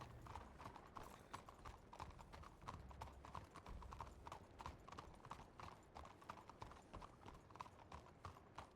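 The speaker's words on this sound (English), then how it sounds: "Whose black horse is that, Victoria?" Video game horse hooves clip-clop in a quick, steady trot, a continuous rhythmic clatter at moderate volume with faint background noise.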